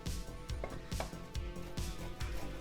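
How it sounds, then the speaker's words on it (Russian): Mozzarella cheese rubbed down a coarse grater makes a steady rhythmic scraping, roughly two strokes per second, close and fairly quiet, with no talking. "И натираем также на крупной терке."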